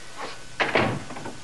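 An office door is shut in an old radio drama, giving a short, close thud with a brief rattle, moderately loud in a quiet room.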